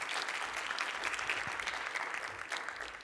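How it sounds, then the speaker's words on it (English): An audience at an accessibility paper session applauds a speaker, a dense, even wash of clapping from a crowd that holds steady for the full stretch. "let's give our speaker another round of applause"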